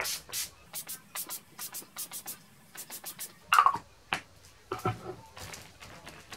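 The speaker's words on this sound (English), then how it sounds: "Love that sound. Just going to spray that on." Makeup setting spray hisses in several short, sharp bursts, with a few longer spritzes near the end, close and fairly quiet against a still background.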